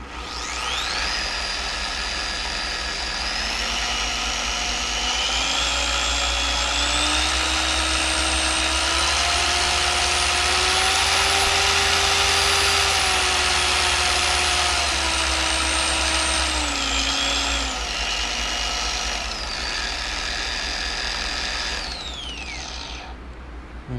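A Torq10FX dual-action car polisher spins up with a slow soft start, its motor whine rising in pitch and holding a steady high drone for about fifteen seconds before winding down, loud and close with no talk over it.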